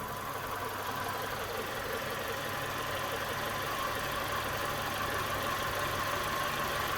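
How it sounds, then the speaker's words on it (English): A car engine runs with a steady, rough idle, holding an even level throughout with a faint irregular knock and vibration as it stutters, no voices over it. "going back up again instantly, and the engine stuttering"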